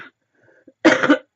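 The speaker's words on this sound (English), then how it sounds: "hold on, I am going to cough." A single close, sharp cough bursts out after a moment of near silence, with a faint breath just before it.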